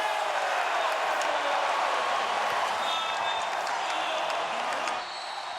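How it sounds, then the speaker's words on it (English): A Boston basketball crowd roaring and applauding continuously at a Celtics home game against the Heat, a dense, loud arena wash that dips slightly at the end. "Back in Boston, the crowd alive once again."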